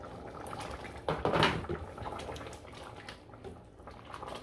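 Water is splashed into a pot of simmering mushroom rice with kani kama, a short gush of pouring followed by soft bubbling and sizzling, close and moderately quiet.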